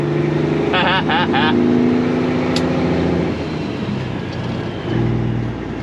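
A truck's engine drones steadily through gear changes, with the pitch dropping and settling as it shifts smoothly, loud and close inside the cab, with a brief whining tone early on.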